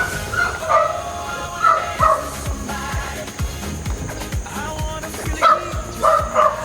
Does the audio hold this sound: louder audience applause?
no